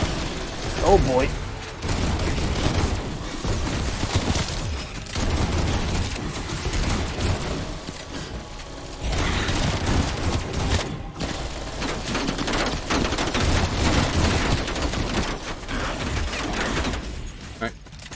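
MAC-10 submachine gun fire in a zombies video game, rapid bursts crackling repeatedly against a busy game soundscape, with a player talking over much of it.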